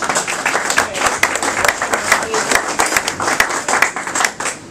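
An audience at a Fairfax County political gathering breaks into applause, a lively burst of many hands clapping that swells and then tapers off near the end.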